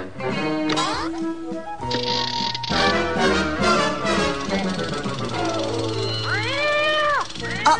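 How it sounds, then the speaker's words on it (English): A mechanical cat in a 1980 Saturday morning cartoon lets out rising, warbling meows mixed with a busy soundtrack of music and effects, with a long wavering yowl near the end. "Now we use the mechanical cat to capture her."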